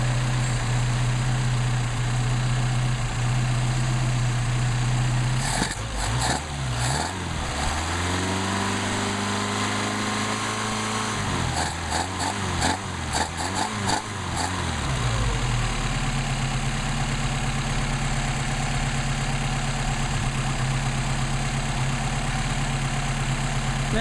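A Mercedes 190SL engine with Solex carburetors idles steadily on a hot day before warm-up tuning, a loud continuous rumble whose pitch rises and falls briefly as the throttle is blipped twice, then settles back to a even idle.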